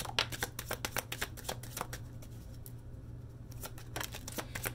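An oracle card deck is shuffled by hand in rapid, crisp riffles and snaps, a steady run of close card flutters over a low hum, with no talking.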